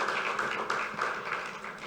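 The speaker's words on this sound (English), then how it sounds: "Please, a round of applause for them." An audience applauds at the African Women's Summit 2022 in Kigali, Rwanda, a steady moderate wash of clapping from a hall crowd without a break.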